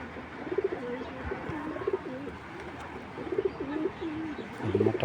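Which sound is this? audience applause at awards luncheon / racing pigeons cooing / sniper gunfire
racing pigeons cooing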